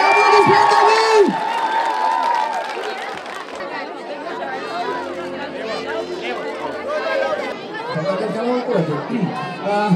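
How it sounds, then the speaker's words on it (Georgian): A lively crowd cheers and chatters, with high excited whoops and shouts near the start, then a steady babble of many voices continuing throughout. "ძალიან დიდი მადლობა, აპლოდისმენტები!"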